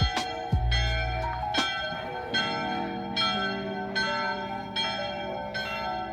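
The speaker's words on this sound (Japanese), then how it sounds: "鐘が鳴ってる。" Church bells ring out over the upper part of Lucerne's old town, with repeated loud strikes spaced about a second apart and a long resonant decay, heard from nearby over a faint outdoor background.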